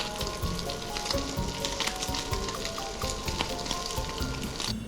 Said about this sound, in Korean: 썰어놓은 스팸을 기름에 노릇노릇 부어주세요